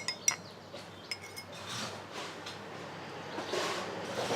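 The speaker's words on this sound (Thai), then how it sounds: "ตอนนี้ก็คนให้ละลายนะคะ" A spoon clinks against a glass a few times, then swirls softly as a powdered turmeric drink is stirred to dissolve, quiet and close.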